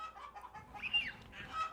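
Chickens cluck softly nearby, a few soft calls rising into one louder squawk, with no talking.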